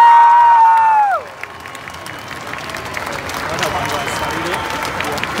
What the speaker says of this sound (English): a big round of applause for Nephi and Hohepa Puru.